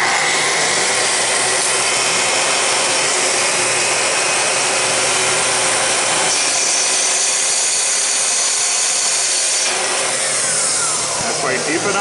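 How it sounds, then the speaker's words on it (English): A Festool track saw cuts along the edge of a wood board in a workshop, a loud, steady whining roar that holds at full level the whole time. "I'm going to use my Festool track saw"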